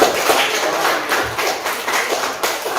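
Classroom applause after a student group's math presentation, a dense, steady patter of hand claps from a room of students lasting the whole stretch at moderate loudness, with no talk over it.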